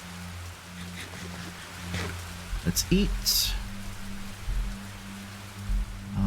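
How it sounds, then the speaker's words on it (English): Rain falls in the Betweenlands world of Minecraft as a steady soft hiss, low in the mix beneath a player's talking, with a low droning hum and a few brief game sound effects. "and now it's raining"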